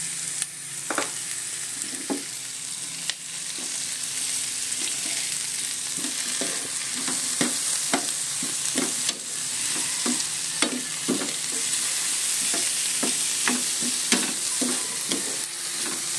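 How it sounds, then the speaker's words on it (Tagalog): Bitter gourd (ampalaya) sautéing in a hot pan, a steady loud sizzle punctuated by regular scraping stirs of the spatula, close and without talk. "Gisa lang natin, palambutin natin yung ampalaya, guys."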